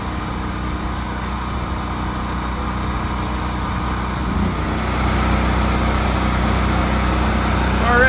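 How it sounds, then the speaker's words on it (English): A Generac home standby generator runs after a simulated utility power loss, a steady engine drone that grows louder partway through, with a voice talking over it. "See the generator automatically fired up as soon as it detected a loss of utility power."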